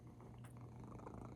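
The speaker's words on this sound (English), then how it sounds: "so if you hear any aggressively loud purring" A house cat purrs loudly and steadily at close range, sitting in someone's lap during a knitting session, a continuous low rumbling drone with no voices over it.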